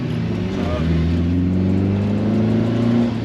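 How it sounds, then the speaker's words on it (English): A classic BMW 2002 Touring engine drones loudly and steadily close by, with a faint rise in pitch as it revs. "This revs up, it's like 8 grand."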